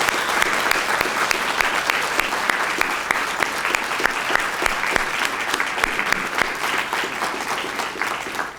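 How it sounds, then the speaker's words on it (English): A large audience at a magistrate court swearing-in ceremony claps for three new judges, a loud, sustained wash of many hands with sharp individual claps standing out throughout. "Let's give a big round of applause for all three of these judges."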